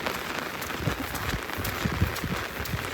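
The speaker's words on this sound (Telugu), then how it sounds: "ఈ వర్షం నాన్ స్టాప్ కొడుతుండే." Heavy, non-stop rain falls near the Godavari river, making a dense, even hiss and patter that holds steady throughout the moment, with no talk over it.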